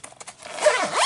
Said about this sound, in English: I can zip it completely